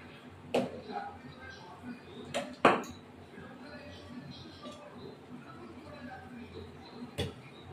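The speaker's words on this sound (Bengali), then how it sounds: "হাতা দিয়ে একটুখানি যা যা সবজি আছে ঢেলে দেবো" A ladle knocks a few times against a metal pot while vegetables and spices go in for a thin rui fish curry. The clinks come as scattered, sharp knocks over a quiet kitchen background.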